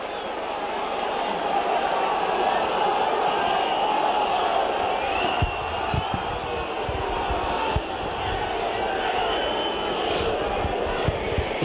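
Oldham rugby league crowd at a home match against Warrington cheering as a kick bounces once into touch, a steady, dense roar of many voices filling the whole stretch with a few sharper shouts and claps rising out of it.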